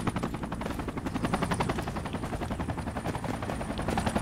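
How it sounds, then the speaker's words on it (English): An enemy helicopter hovers in the military shooter game Project Reality, its rotor chopping loud and steady in a rapid, continuous beat over a hissing engine whine. "Enemy helicopter is hovering at Foxtrot 5."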